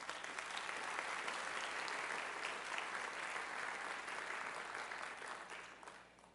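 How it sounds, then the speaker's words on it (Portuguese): Sustained applause from a church congregation at an evening service, steady dense clapping filling the room for several seconds before tapering off at the end, fairly distant and even. "Aplauda ao Senhor."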